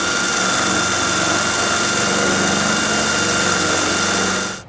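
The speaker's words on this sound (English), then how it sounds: "Now we'll take our 17/32 drill bit and drill this out." A power drill with a 17/32 drill bit bores a hole while a Roadmaster Direct-Connect base plate kit is set up, giving a loud, steady high-pitched whine that runs for several seconds before cutting off abruptly.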